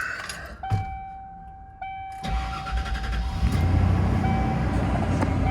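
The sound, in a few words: 1995 Ford Bronco 5.8 Windsor V8 engine starting up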